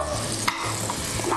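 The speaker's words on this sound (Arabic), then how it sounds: "اللحمة حطيناها في الزيت السخن" Meat is stirred in hot oil in a home kitchen while cooking stuffed zucchini, giving a steady, close sizzle with soft scraping underneath throughout.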